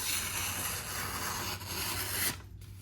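An EDC pocket knife blade takes deburring passes across a sharpening stone, a soft continuous rasping scrape heard close up that stops cleanly before a brief quiet tail.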